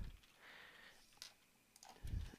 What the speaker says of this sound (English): You can start typing the name of the student